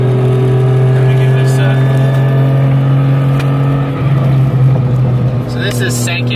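A 2JZ-swapped Mustang running about 22 psi of boost pulls hard in second gear, its loud engine drone holding steady, then shifting in pitch partway through, heard close from inside the car.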